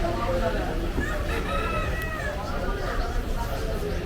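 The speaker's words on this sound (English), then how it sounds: "You have chickens like this here everywhere." Roosters crow amid a busy crowd in a Dhaka, Bangladesh bazaar, their calls rising over a dense hum of chatter and market bustle.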